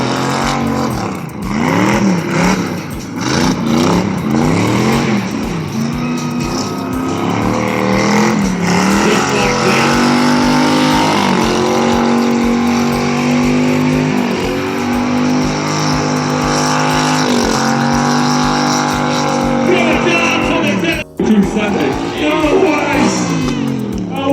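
A Monster Energy drift taxi truck engine roars loudly and continuously at The Gas Motor Show, its revving rising and falling under a busy crowd and an announcer's voice.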